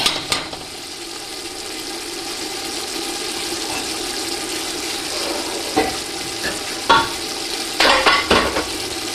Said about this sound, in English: All the masala from the sides of the pan are scraped in to the